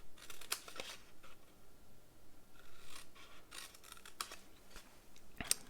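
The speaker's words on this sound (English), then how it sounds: "we're gonna cut up those 2 short score lines" Scissors snipping paper along short score lines on a folded candy shadow box, a few quiet crisp cuts in small clusters separated by pauses, close and isolated.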